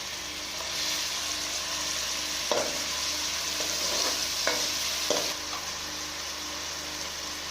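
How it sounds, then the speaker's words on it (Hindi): Onions frying in a spoonful of oil on the stove, a steady broadband sizzle throughout with a few brief stirring scrapes in the middle, close and fairly loud, no talking. "प्याजों को हम गोल्डन ब्राउन होने तक फ्राई करेंगे"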